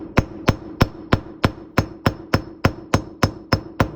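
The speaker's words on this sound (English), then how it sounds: "the hammer will make a ringing sound instead of a thud" Steady metallic hammer taps seating a rear wheel bearing onto the axle of a 1971 MG Midget, about three per second, ringing sharply and close up with no talking.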